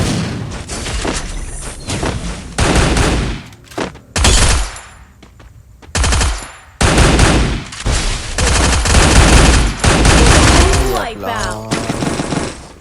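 Machine gun fire in the video game Free Fire rattles out in loud, dense bursts with short pauses between volleys, ending in a last burst.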